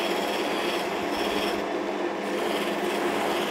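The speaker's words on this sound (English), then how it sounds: "we just gently bring the bowl up to the wheel and start the buffing process" A buffing wheel polishes a wooden bowl with a steady, close, continuous rubbing whir that holds at an even level from start to finish, with no talking.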